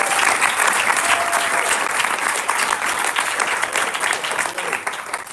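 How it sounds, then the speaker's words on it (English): An audience at a graduation ceremony applauding, dense sustained clapping from many hands filling a large hall, loud and steady throughout, slowly thinning toward the end. "You can clap for that."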